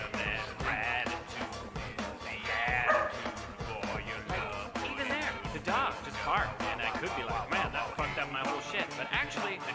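A small fluffy dog barks and yips repeatedly in quick bursts, close by and loud, with someone talking over it the whole time.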